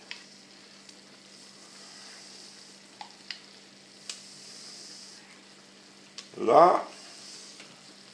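Vegetables with Isigny crème fraîche are stirred in a frying pan, a soft simmering hiss under a few light utensil clicks and one louder scraping stir; a voice speaks briefly.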